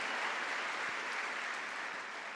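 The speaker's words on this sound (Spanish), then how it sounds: "Dale un aplauso a Él si quiere" A church congregation claps during a sermon, a dense, even burst of applause that stays steady and moderately loud for the whole stretch.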